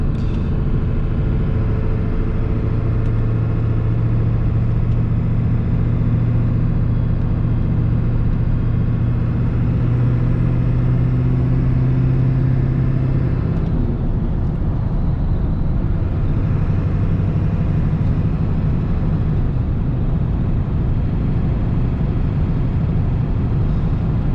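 A 1996 Ford F-350 with a 7.3 engine drones steadily while driving, a loud continuous low rumble with a slight pitch shift midway and no voices over it.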